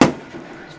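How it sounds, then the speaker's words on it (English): Fireworks go off at a high school football game: a single sharp bang with a short, fading crackling tail, heard at a distance. "Fireworks go off there."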